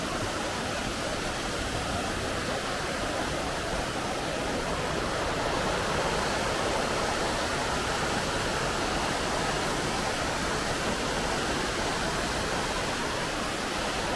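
The clear water of the Banias river, flowing down from Mount Hermon, makes a dense, loud, unbroken rush like a nearby waterfall. It holds steady throughout with no pauses.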